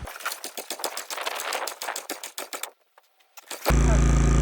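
A gas-powered auger drill used to bore holes for rebar while building a log cabin: rapid rhythmic pull-cord sputters and coughs, a brief near-silent pause, then the engine catches and settles into a loud steady drone.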